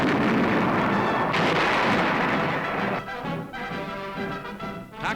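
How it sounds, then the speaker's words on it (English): American big guns firing on Leyte, heard in an archival wartime newsreel, with heavy booming artillery rumbling loud and continuous, then a few distinct blasts echoing as the barrage thins out. "Heavy fighting continues on Leyte, with American big guns pounding the reinforced enemy."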